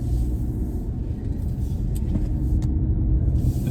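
A Peugeot 2008 driving, heard from inside as a steady low road rumble and engine hum with faint ticks and small bumps, no one speaking.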